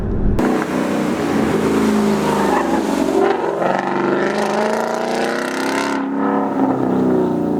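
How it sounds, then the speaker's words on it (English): A 2016 Mustang GT V8 with a Roush axle-back exhaust and SVE X-pipe rumbles and revs loudly up close, pitch climbing and falling through several throttle blips with a deep, throaty growl. "I like my exhaust a lot more now."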